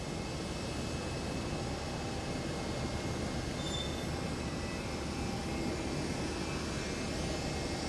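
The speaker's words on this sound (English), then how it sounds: "sending off NH886 back to Tokyo, off to Haneda she goes" An ANA airliner, flight NH886, departs Kuala Lumpur International Airport for Tokyo Haneda, its engines a steady, loud broadband roar that fills the air without pause, heard from airside.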